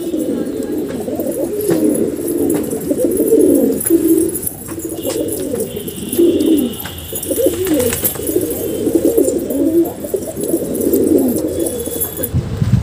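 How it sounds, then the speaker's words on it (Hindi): Pigeons coo steadily in a loft at midday while eating grain and sipping water, a continuous layered murmur of many birds close by with soft wing and pecking sounds. "अभी आप देख सकते हैं सारे कबूतर किस तरीके से दाना खा रहे"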